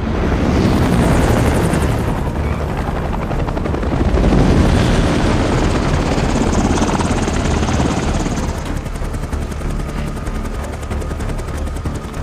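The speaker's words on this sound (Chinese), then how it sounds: "两架 UH-60 黑鹰贴地撵着两辆汽车" UH-60 Black Hawk helicopters fly low over a road chasing cars in a film scene, a loud, steady rotor roar and whine that swells and then eases slightly, with no speech.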